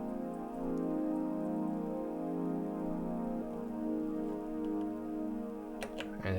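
A layered synthesizer pad from a music production session plays sustained chords that shift partway through, ending in a brief flurry of brighter accents.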